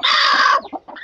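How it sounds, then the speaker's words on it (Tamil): A brooding hen sitting on a clutch of eggs lets out a loud, harsh drawn-out cluck up close, followed by a few shorter, softer clucks. "இப்போ இந்த கோழி நம்ம பார்ப்போம்"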